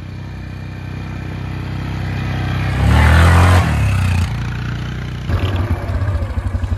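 A Yamaha Kodiak four-wheeler runs nearby with a steady engine drone that surges into a louder rev, drops back, then settles into a throbbing, pulsing idle rhythm, with no speech.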